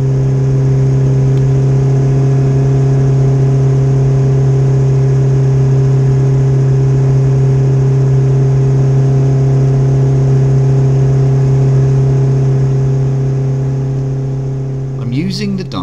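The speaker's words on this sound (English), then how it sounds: "I'm using the dyno to load hold dynamically the engine RPM to whatever I demand." Peugeot 205 GTi engine held under load on a dyno, a steady loud droning hum at constant RPM with strong harmonic tones, sustained throughout and easing slightly at the very end.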